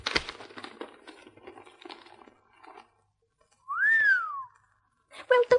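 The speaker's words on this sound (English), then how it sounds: "Well, don't just whistle." A person whistles a single rising-then-falling note, a short clear tone alone in a quiet pause, after some faint rustling of a paper bag and soft handling sounds earlier.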